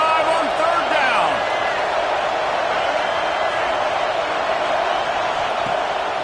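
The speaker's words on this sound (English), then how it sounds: "The Buckeye crowd alive on 3rd down" A stadium crowd of Ohio State Buckeyes football fans roars on third down in a game against Penn State, a loud, steady wall of cheering with a commentator talking over it.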